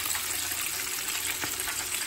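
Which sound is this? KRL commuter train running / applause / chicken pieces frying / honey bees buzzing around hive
chicken pieces frying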